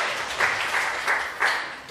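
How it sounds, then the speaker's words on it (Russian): Audience at a humorous concert of a song-poetry club applauding, a dense wash of many hands clapping, steady and fairly loud throughout the short stretch with small surges, no speech. "Дружные аплодисменты счастливице."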